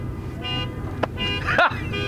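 A car alarm sounds in short, repeated tonal bursts, mixed with people talking close by.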